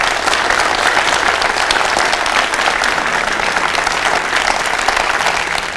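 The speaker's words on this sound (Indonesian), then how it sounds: "Kasih tepuk tangan mama saya." An audience at a televised marketing seminar breaks into loud, sustained applause for the presenter's mother, a dense, even roar of many hands clapping for nearly six seconds with no speech.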